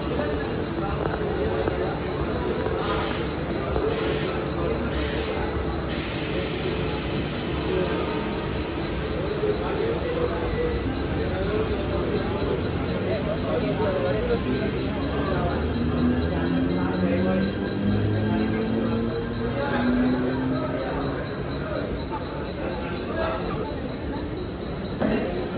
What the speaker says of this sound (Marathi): 12618 हजरत निजामुद्दीन एर्नाकुलम मंगला लक्षद्वीप एक्सप्रेस थोड़ी ही समय में प्लेटफॉर्म क्रमांक 6 पर आ रही है